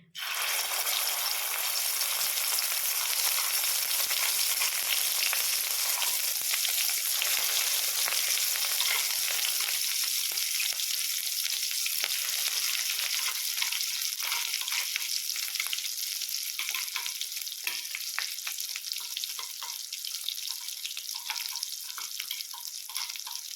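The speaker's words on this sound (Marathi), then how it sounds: "हे मिश्रण थोडंसं तेलामध्ये परतून घ्यायचं" Steady loud sizzling of a ground spice paste frying in hot oil, continuous crackle and hiss with occasional stirring scrapes, close up and without talk.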